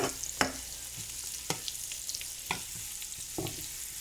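Boiled eggs fry in a pan under a steady soft sizzle, broken by four sharp spatula scrapes and taps spaced about a second apart.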